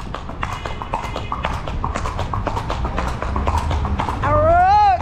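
Horse hooves clip-clop steadily on a road during a cavalcade with friends, close and clear, with people talking over them and a vehicle engine rising near the end.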